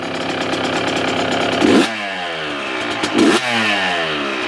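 A freshly rebuilt two-stroke engine runs loud and close, its buzzing note climbing and dropping through two sharp throttle blips over a steady rattly idle.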